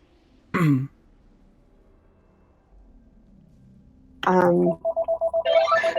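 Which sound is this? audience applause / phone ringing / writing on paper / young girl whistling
phone ringing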